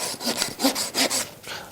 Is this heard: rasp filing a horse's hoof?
yes